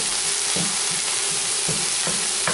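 Onions frying in a pan for a Brazilian chicken pie, a steady loud sizzle and crackle, broken by a few soft scraping stirs.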